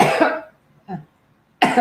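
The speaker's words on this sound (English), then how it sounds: "I might be doing a little coughing." Someone coughs nearby in three separate bursts, a longer rough one, a short one after a pause, then another strong cough.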